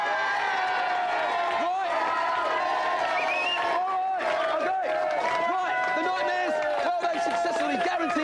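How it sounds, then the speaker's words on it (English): A television game show studio audience cheers and claps over loud music, with whoops and crowd noise blending into a dense, continuous roar throughout. "Let's have a big round of applause for the chap."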